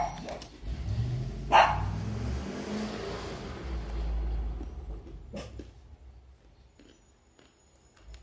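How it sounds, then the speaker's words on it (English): A dog barks a few times, sharp and fairly close, over the rumble and rev of a car engine, with a quieter bark later. "He's barking."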